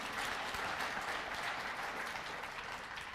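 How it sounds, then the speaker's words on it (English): A crowd at a labor movement gathering applauds, sustained, even clapping that fills the room without pause and fades slightly at the end. "And yes, and you can applaud for that."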